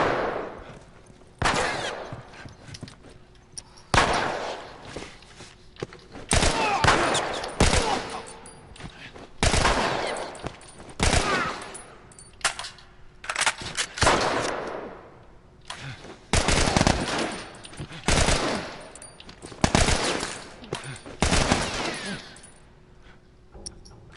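Gunfire in The Last of Us, repeated sharp shots and short bursts spaced a second or two apart across the stretch, loud and close, with quiet gaps between volleys.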